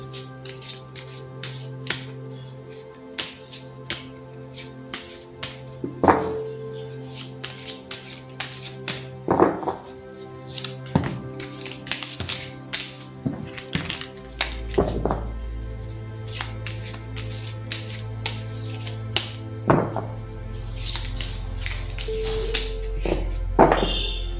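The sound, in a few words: shuffling tarot cards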